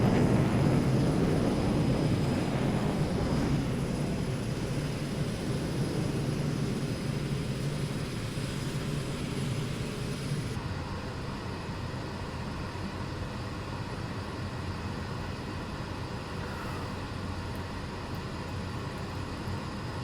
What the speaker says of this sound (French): On coupe le moteur.